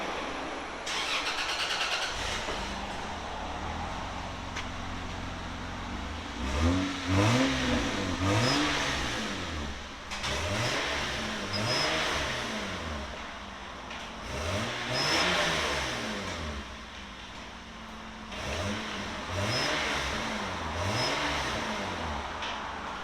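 A 1996 Toyota Land Cruiser 4.5-litre inline-six with high-flow cats and a Borla Pro XS exhaust starts, then revs repeatedly in rising and falling bursts with idle stretches between, a throaty mid-pitched roar heard close up.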